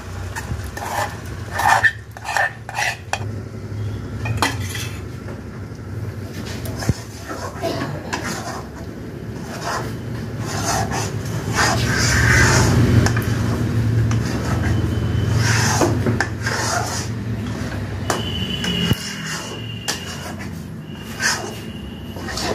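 Paste of 1 kg green peas ground with five or six green chillies, poured into a kadai and stirred: soft scraping and stirring with a low, steady rumble and light sizzle, under intermittent talking.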